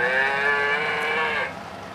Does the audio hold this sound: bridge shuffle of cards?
no